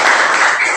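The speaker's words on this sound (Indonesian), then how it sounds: "Tepuk tangan buat Mas Kamto." A classroom group claps for a student during a lesson, a loud, close, dense patter that lasts under a second.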